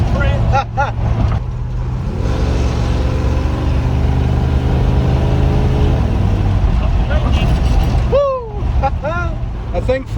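A 1979 Ford F-100 barn-find pickup's engine runs with a steady, droning hum that holds for several seconds, with voices talking over it before and after.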